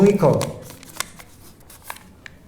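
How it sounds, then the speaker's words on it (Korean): A paper cup is handled close by, with a burst of crinkling and rustling at the start alongside a voice, then a few faint, sparse taps and clicks. "이 종이컵 있잖아요."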